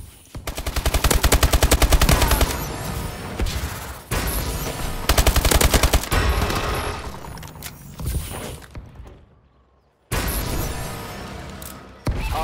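Rapid automatic gunfire from a fast-shooting weapon in Call of Duty: Advanced Warfare ranked Demolition, loud close bursts of tightly spaced shots separated by short pauses, with a brief near-silent gap before firing resumes.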